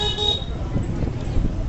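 Car horns toot briefly near the start amid steady road traffic rumble while driving slowly through a local market on the way to Ranikhet in Uttarakhand, with a voice talking underneath.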